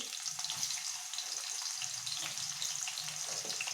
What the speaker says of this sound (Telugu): ఈ ఉల్లిపాయ ముక్కలు వేసిన తర్వాత అది బాగా రెడ్గా అయ్యే వరకు బాగా ఫ్రై చేసుకోవాలి